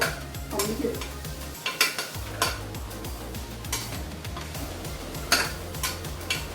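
Mutton keema pulao stirred in a pot, with regular scraping and clinking of a spoon against metal over a faint sizzle, close and steady.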